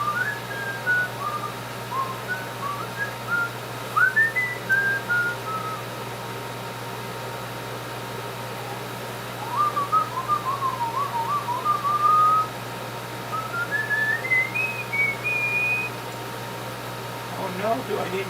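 Someone nearby whistles a few soft, recorder-like melodic phrases in short bursts with pauses between them, over a steady background hum.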